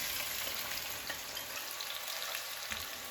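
Zucchini pieces frying in a pan with red chili flakes, a steady soft sizzle and crackle with faint stirring, quiet and close, no talking.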